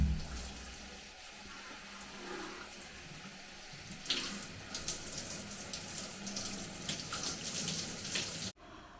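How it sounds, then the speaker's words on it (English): Shower water runs steadily during a natural hair wash, a continuous splashing hiss that grows louder and more spattery midway, then cuts off abruptly near the end. "I like doing it under the shower"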